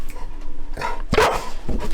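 A dog barks on command outdoors at a rainy lakeside campsite, giving a few loud, close barks in short bursts with brief pauses between them.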